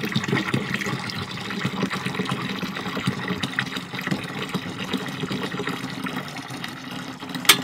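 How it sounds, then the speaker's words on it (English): Hot water poured into an RV holding tank with a tank treatment, a steady gushing, filling flow running continuously at moderate level throughout, with no talking. "So we just add a little hot water in there."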